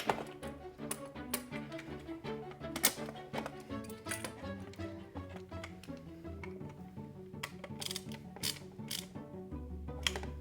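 Screws being tightened on a Garmin heat shield mount, a run of small clicking, ratcheting ticks in irregular bursts, close and fairly quiet, with no talk.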